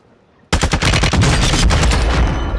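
Automatic gunfire in Call of Duty Warzone 2 erupting suddenly after a quiet moment, a loud, close, rapid burst of shots that keeps rattling continuously to the end.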